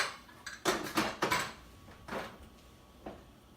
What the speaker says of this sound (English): Now it is boiling, and I'm going to close the lid